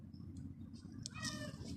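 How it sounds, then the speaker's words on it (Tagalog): A cat meows among a group of cats and kittens outdoors in a garden, a couple of short, fairly faint mews over steady low background rumble. "May mga pusa dito."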